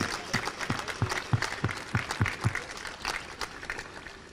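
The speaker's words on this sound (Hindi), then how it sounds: "एक बार जोरदार तालियां सभी खिलाड़ियों के लिए।" A crowd claps for the athletes at the opening of a masters national games, with a few distinct loud claps in a rhythmic pattern over scattered applause.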